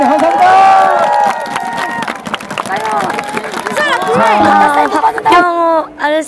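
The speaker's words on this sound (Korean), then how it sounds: "큰 박수 부탁드리겠습니다" A stadium crowd at a Nexen versus Samsung baseball game cheers and applauds, a loud roar of massed voices and clapping under amplified announcer speech and music.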